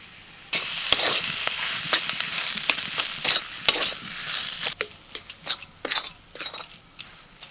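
Ruhi fish finger filling of boiled potato and chopped coriander is stirred in a hot kadai, giving a steady close sizzle broken by repeated scraping and clinking spoon strokes. The strokes grow more distinct toward the end, with no talking.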